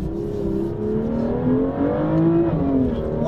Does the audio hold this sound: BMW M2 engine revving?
yes